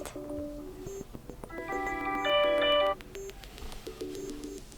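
A bright electronic ringtone melody plays on a Xiaomi 13 Lite phone, stepping through short tonal notes with a brief louder chiming stretch in the middle, fairly quiet overall.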